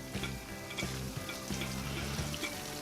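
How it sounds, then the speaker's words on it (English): Water is poured into a paella cooking on a Lidl mini kamado grill, a steady close splashing with sizzling underneath that continues throughout. "what I'm going to do then is just add some more water to this"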